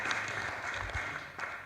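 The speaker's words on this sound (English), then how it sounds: "I think we should give her a clap" An audience at a political rally in Nairobi applauding, a steady wash of clapping heard from a distance at low level.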